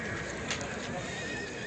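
Horses whinny loudly at a busy horse and livestock market in Sokuluk, with a sustained neigh rising over steady crowd and animal noise throughout the short stretch.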